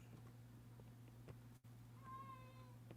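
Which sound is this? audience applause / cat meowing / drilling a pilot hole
cat meowing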